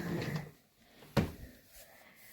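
A storage drawer built into the base of a baby crib slides open or shut with one short, hollow thump, close by in a quiet room.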